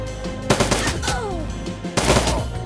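Rapid bursts of automated turret gunfire in the video game Shadowrun: Dragonfall, loud clustered shots with a short lull before another heavy volley, no voices over it.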